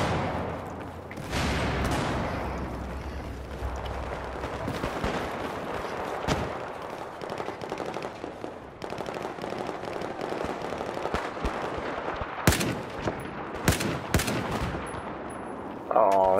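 Gunfire in the video game Metro: rapid bursts and single cracks of shots over steady battle noise, loud and close at times, with brief speech mixed in.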